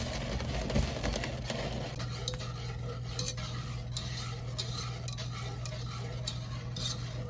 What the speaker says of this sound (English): I'm going to be stirring this a little bit